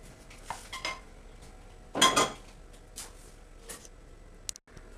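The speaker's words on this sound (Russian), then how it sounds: "Сейчас мы ее выложим на тарелочку." A brief clatter of dishware around the middle as a pan-cooked pizza is placed onto a plate, with a few light clinks before and after, in an otherwise quiet room.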